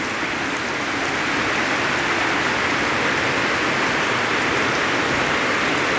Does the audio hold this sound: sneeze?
no